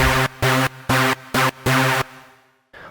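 A Sylenth1 synth lead plays dry, with no effects, as a rhythmic EDM drop pattern of five sustained, buzzy chord stabs with brief gaps between them. The last stab fades out, followed by a short final hit.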